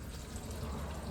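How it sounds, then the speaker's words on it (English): Diesel fuel poured into a new fuel filter during routine maintenance on a Dodge Ram 3500 Cummins truck, a steady close trickling pour running throughout without a break. "got a little bit of diesel, and I'm going to attempt to pour this in here without making a mess"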